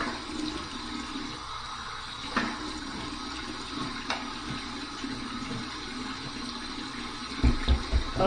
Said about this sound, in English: just waiting for the water to get warm